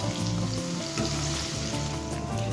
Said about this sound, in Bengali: আমি দিয়ে দিচ্ছি 1 teaspoon ginger, garlic, green chilli হালকা ফ্রাই হতে দেব